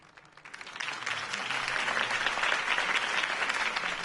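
Crowd applause in a video game after a campaign speech, swelling in quickly and holding as dense, sustained clapping from a large audience.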